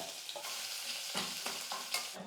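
Crushed garlic cloves with their skins and dal frying in hot oil, a bright continuous sizzle broken by repeated scraping stirs every half second or so, close and quiet, no voices.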